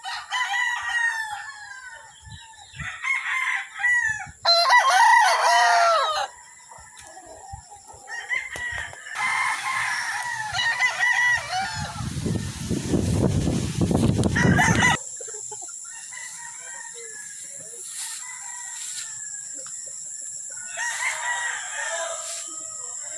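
Gamefowl roosters on a game farm crow repeatedly, several birds overlapping near and farther off, with clucks and a stretch of rumbling background noise in between.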